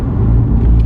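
A BMW i8, a mid-engine hybrid sports car, driving on back roads gives a short, close, steady low engine rumble with road noise and no voices.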